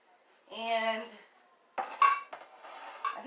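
Two 9-by-9 cake pans, one of them glass, clank and clink as they are set down and moved on a kitchen counter: a ringing knock first, then a cluster of sharper clatters a moment later.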